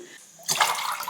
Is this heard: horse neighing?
no